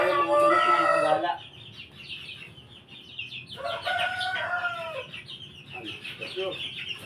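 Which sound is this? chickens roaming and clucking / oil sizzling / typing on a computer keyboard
chickens roaming and clucking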